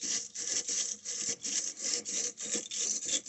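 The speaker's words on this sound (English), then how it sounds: "you just put them in and basically rotate it around the top of the" A steel brush twisted around a copper pipe end during a faucet replacement gives a steady, rhythmic scraping, about a dozen close, even strokes with no voices.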